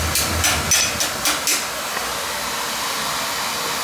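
Oil burner firing up after a cleaning and a new nozzle, a steady broadband roar and hiss with a few sharp bursts early on, then settling into an even, continuous rush.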